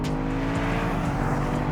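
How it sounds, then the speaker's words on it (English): A 2025 BMW M5 engine drones steadily and loudly throughout, a continuous close engine hum with no talk. "All of a sudden the engine wakes up, the paddle shifts come alive"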